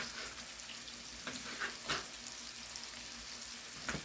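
Turkey and beef kielbasa sausage hits a hot pot for red beans and rice, giving a steady soft sizzle with occasional stirring clanks and bursts of spattering, close and fairly quiet.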